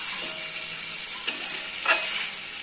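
Chicken sautés and sizzles in oil in a pan as a masala-free dish is cooked down, with a constant frying hiss and two brief scrapes of stirring.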